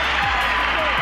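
Basketball arena crowd cheering for the Chicago Bulls against the Detroit Pistons, a loud, dense, sustained roar of applause and shouting filling the whole moment, with a voice speaking faintly over it.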